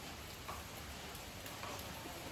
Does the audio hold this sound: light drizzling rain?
yes